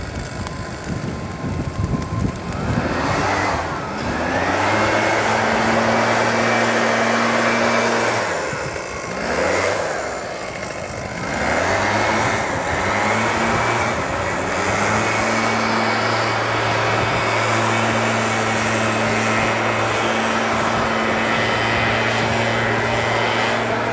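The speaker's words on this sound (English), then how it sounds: "use the leaf blower to keep the flames from getting too close" A leaf blower runs steadily and loud during a prescribed burn, its motor droning with a few brief dips and surges in pitch as it is worked near the flames, with wind-like rushing throughout.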